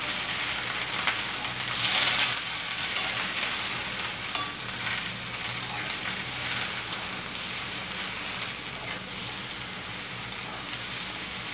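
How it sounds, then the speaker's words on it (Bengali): Okra frying and being stirred in a wok, a steady loud sizzle with scraping stir strokes throughout, no talking. "ভেন্ডিটা একটু ভাজাবে, সিম করে দেবো কড়াইটা"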